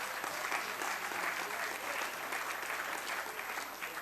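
Audience applause during an address by South Africa's President Cyril Ramaphosa, a sustained wash of many hands clapping at an even level from start to finish, heard alone without speech.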